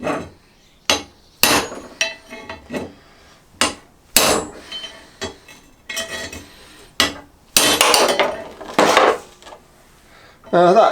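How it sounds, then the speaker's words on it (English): A fairly light hammer strikes a drift to knock out the swingarm bushes of a Triumph Bonneville, giving a series of sharp, close metallic knocks at an irregular pace, with quiet gaps between blows. "using a fairly light hammer"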